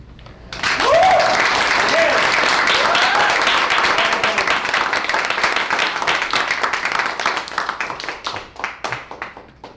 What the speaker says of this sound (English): please don't keep clapping